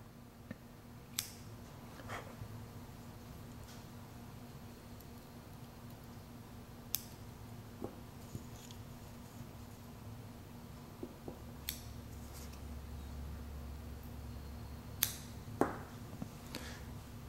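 Fibrous cotton wick tails on an Erlprinz RTA vape atomizer are trimmed with scissors, making faint, sparse snips and ticks spread over a quiet background hum.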